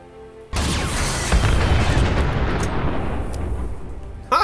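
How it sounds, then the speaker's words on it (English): A custom Nuka grenade explodes in modded Fallout 4 with a sudden loud boom, followed by a long rumbling roar and debris crackle that slowly fades, then a second sharp burst right at the end. "Custom Nuka grenades mod"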